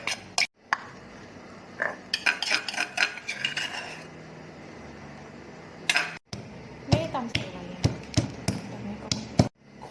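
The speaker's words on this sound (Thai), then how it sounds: "โขกพริกให้ละเอียด" Chili being pounded in a mortar for a Thai red ant egg and bamboo shoot curry, a series of sharp, knocking thuds in uneven bursts, close and fairly clear, with brief pauses between runs of strikes.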